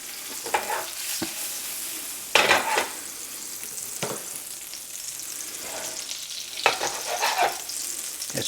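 Butter sizzling as it melts in a pan, a soft steady crackle broken by several louder scrapes and clatters of stirring, close up and with no talk.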